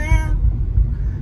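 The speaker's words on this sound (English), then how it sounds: "Critter, the cat." A single loud, close cat meow, short and bright, fading into outdoor rumble in a car on a hot day.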